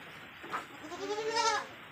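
A goat in a breeder goat house bleats once in a close, wavering cry lasting under a second, preceded by a brief softer sound.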